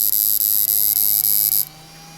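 AK2 amplifier just switched on gives a loud high-pitched electrical hum with a few brief dropouts, then cuts abruptly to a quiet low hum.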